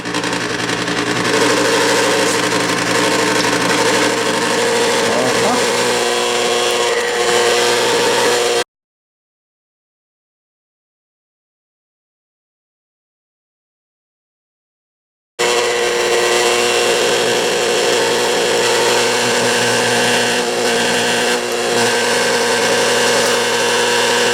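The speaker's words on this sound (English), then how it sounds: "Start this grinder, drop the meat in there." A meat grinder works through marinated pork for Hawaiian-style meatballs, giving a loud, steady motor drone that cuts out completely for several seconds, then resumes at the same level.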